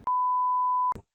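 A censor bleep on a filmy game show cuts off a word: a single steady pure tone lasting almost a second, clipped bits of speech just before and after it.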